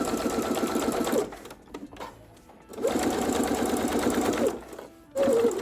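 A sewing machine stitching along a fabric fold, running in three close, loud bursts of rapid mechanical whirring separated by brief pauses, with no speech.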